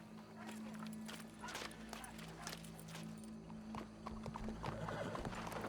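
Horse hooves clip-clopping in Red Dead Redemption 2, a steady rhythmic patter of hoofbeats heard close under game ambience, with a whinny and low voices in the background.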